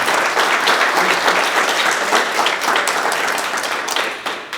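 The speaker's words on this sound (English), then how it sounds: "Let's give a round of applause for John Milner." Loud, dense audience applause at a community food-insecurity event, continuous clapping from a sizable crowd that holds steady for several seconds and tapers slightly at the close.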